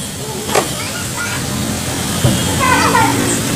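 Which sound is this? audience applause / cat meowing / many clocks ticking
cat meowing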